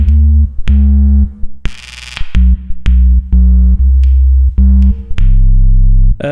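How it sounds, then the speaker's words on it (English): A deep sub bass synth built from a triple oscillator sine wave plays a rhythmic pattern of sustained low notes, broken by short gaps and punctuated by sharp percussive hits, with no voices present. "a sub. Triple oscillator, just a sine wave."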